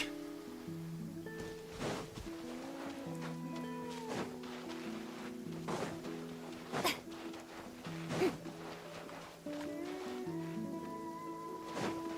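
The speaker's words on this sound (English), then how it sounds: "it seems it's raining again" Steady rain patters in the video game Genshin Impact, a continuous hiss running under melodic in-game music with occasional brief splashy accents.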